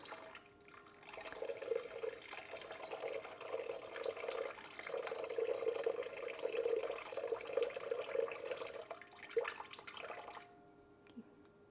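Warm water, about 110 degrees, pours steadily into a bowl on a kitchen scale, a close continuous trickling stream for around nine seconds that stops abruptly near the end.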